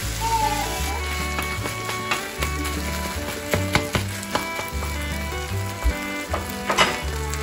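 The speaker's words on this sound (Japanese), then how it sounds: "焼き付けるように炒めてあげると香ばしさがプラスされお肉の臭みを抑えることができます。" Meat seared and stir-fried in a hot pan for a Japanese home-style dinner: a steady, close sizzle with scattered crackles and the scrape of stirring, continuing throughout over soft background music.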